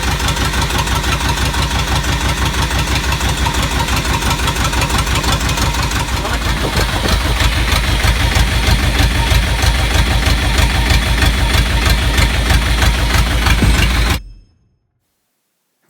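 A narrowboat engine idles loud and near with a steady, fast thumping chug that shifts slightly midway, then cuts off abruptly just before the end.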